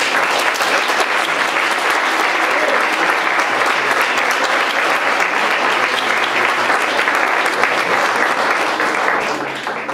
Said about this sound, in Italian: Applauso a tutti i ragazzi di Carbonia.